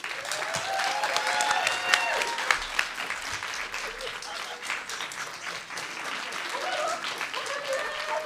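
An audience claps steadily throughout, a dense, sustained round of applause with some whistles and cheers mixed in.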